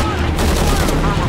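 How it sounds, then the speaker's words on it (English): Gunfire in the Shadow of the Tomb Raider video game, a dense, loud burst of rapid shots filling the whole moment, with game noise layered around it. "Reports of more gunfire."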